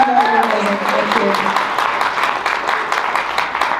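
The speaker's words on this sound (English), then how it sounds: "Give yourselves a massive freaking round of applause." An audience at a closing ceremony gives a round of applause, lively clapping that continues steadily while a voice speaks briefly over the start.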